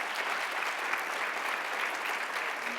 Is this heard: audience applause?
yes